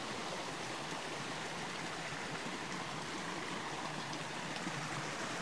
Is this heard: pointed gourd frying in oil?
no